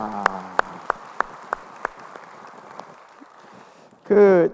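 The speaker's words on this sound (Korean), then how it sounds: "우리 찬양 받으신 주님께 영광의 박수 올리겠습니다" A handful of scattered claps from a church congregation after a choir hymn ring out one by one and taper off, followed by a short burst of voice.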